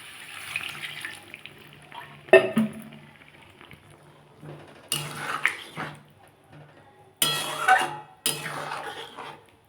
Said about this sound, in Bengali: এবার এখানে সামান্য জল দিয়ে দেবো